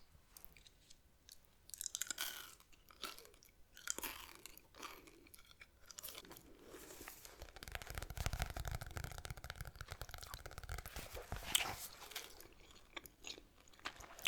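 Three pieces of non-mint gum chewed close to the mic, with soft wet smacks and crunchy bites repeating through a quiet, whispery setting and getting denser in the second half.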